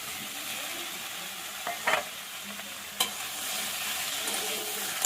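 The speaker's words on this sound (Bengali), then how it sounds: "এঁচোড়টা এবার ভালো করে মশলার সঙ্গে কষিয়ে নেব" Young jackfruit and fried potato being stir-fried with spices in a pan give off a steady close sizzle, broken by a few sharp spatula scrapes and clanks.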